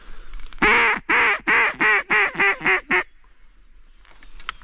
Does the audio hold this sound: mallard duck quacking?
yes